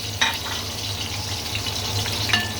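Ginger and garlic paste sizzling in a frying pan with onions as it is stirred, a steady close hiss of frying with occasional scraping clinks from the spoon, no talking.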